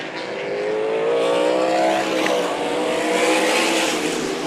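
Sprint cars howl around Meridian Speedway during a heat race. Their engines make a dense, loud, continuous roar with shifting pitch as the field runs single file late in the race.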